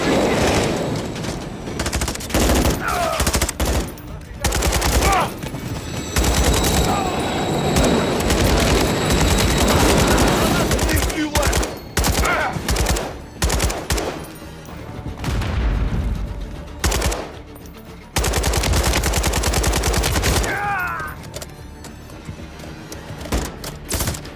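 Light machine gun fire in Call of Duty MW3 plays out as long, loud rattling bursts of rapid shots, broken by short gaps and heavier booms, dense and close throughout.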